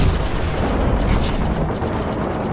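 Weapons fire pounds against a ship's shield in the Star Citizen space-combat game, a loud, dense barrage of rapid impacts and rumbling blasts that runs unbroken throughout with no voice over it.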